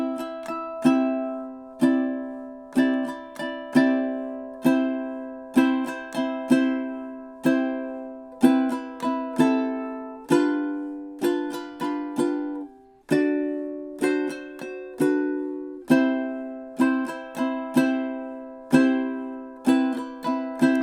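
Ukulele strumming the Hawaiian song Loke Lani in a triplet strum pattern, bright plucked chords in a steady repeating rhythm with accented bursts, close and clear with no voice over it.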